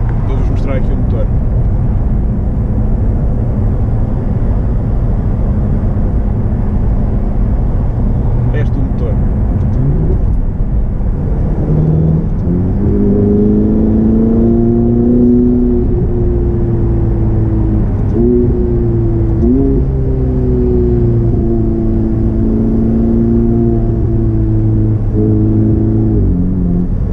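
A 2017 Ferrari 488 GTB engine idling with a steady low drone, then revved several times in rising and falling swells, heard from inside the car with no clear talk over it.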